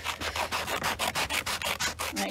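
Scissors cut paper around the edge of a cutout, a quick run of about ten rhythmic snipping and rasping strokes, close up and fairly quiet, with no speech.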